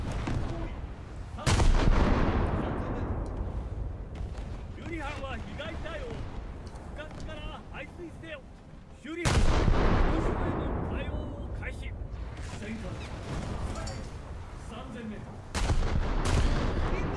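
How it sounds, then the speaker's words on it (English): Warship 6-inch guns fire in a video game naval battle, with three heavy booming salvos spaced several seconds apart, each rumbling and fading while someone talks over the din. "6-inch guns."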